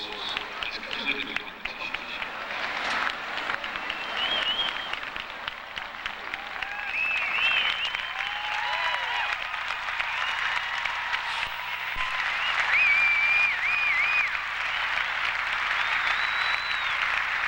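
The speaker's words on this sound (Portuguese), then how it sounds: "Bastante aplaudida a holandesa, a torcida aí presente." A crowd at the Sydney 2000 Olympic equestrian event applauds a Dutch rider in a steady, sustained wash of clapping that swells toward the end, with a commentator talking over it throughout.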